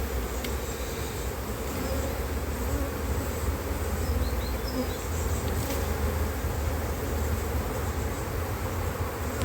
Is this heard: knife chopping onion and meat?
no